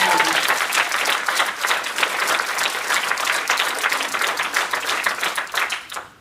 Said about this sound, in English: I'm sure we can give Sean a big round of applause there